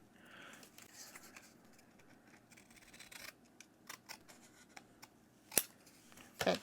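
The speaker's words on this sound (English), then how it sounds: "So I'm just going to cut this edge off a little bit." Scissors snip along the edge of a paper tag, with soft rubbing and handling between a few crisp close cuts, ending in a sharp snip and a short louder flurry.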